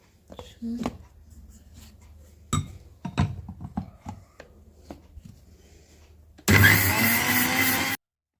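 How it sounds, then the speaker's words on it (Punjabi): An electric grinder whirs loudly in a single burst near the end while grinding poppy seeds, almonds and cashews, after scattered clatter and handling knocks from the kitchen. "ਖਸਖਸ ਵੀ ਜਿਹੜੀ ਆਪਾਂ ਪੀਸ ਲਈ ਆ"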